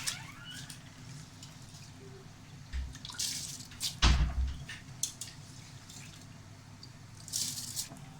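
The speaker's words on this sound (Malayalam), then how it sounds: "ഇതിലേക്ക് കഴുകി വൃത്തിയാക്കിയ അരി ഇട്ട് കൊടുക്കാം" Washed rice tipped into a pot of boiling water for Thalassery biryani gives a sharp splash midway, with soft drips and bubbling before and after; no one speaks.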